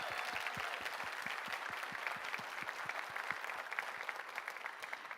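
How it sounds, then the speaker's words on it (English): A room full of people applauds steadily, the clapping thick and even throughout, fairly distant and soft. "So Alyssa Abrego deserves a huge round of applause."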